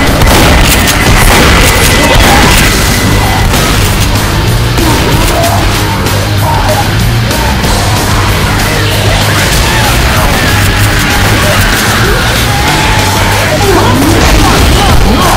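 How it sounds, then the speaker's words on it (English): A pipe bomb goes off in the video game Left 4 Dead, booming within dense, loud, continuous game noise of gunfire and chaos that never lets up. "Throw that pipe bomb, please."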